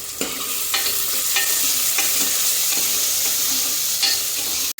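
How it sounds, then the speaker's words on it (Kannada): Onions frying in oil for a tempering, a bright steady sizzle close up with several soft stirring scrapes at regular intervals over about five seconds. "ಇವಾಗ ಒಗ್ಗರಣೆಗೆ ಈರುಳ್ಳಿ, 1 ಈರುಳ್ಳಿ ಹಾಕ್ಕೊಂಡಿರೋದು ಹಾಕ್ಕೊಂಡು ಚೆನ್ನಾಗಿ ಫ್ರೈ ಮಾಡ್ಕೊಬೇಕು."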